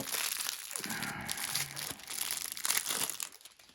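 Packaging crinkles and crumples as a new bronze Ganesha statue is unwrapped, with continuous close rustling and crackling of paper or plastic that rises and falls in bursts.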